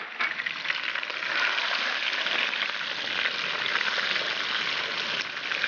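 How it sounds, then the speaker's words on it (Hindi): Chicken pieces and garlic fry in a hot pan, giving a steady, dense sizzle that holds evenly close up for several seconds with no voices. "लहसुन ऐड कर देते हैं और चिकन को थोड़ा सा उसका कलर सफ़ेद होने तक हमने उसको भून लेना"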